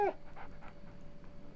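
A Labrador dog in the PS2 horror game Rule of Rose pants in quick, soft, rhythmic breaths after a brief high whimper at the start, close and fairly quiet over a faint steady game hum.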